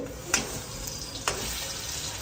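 Asafoetida and garlic frying in hot oil give a soft continuous sizzle, broken by two sharp clicks of a utensil against the pan.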